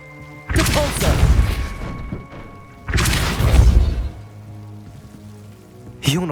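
Two heavy, booming spell blasts from Hogwarts Legacy roll out in long crashing bursts separated by a quieter gap, with a sharp third impact starting at the very end.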